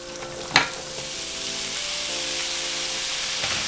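Potatoes hit a hot pan with chorizo for Mexican papas con chorizo, a sharp clatter and then a steady, loud, close frying sizzle with a faint stir near the end, no talking.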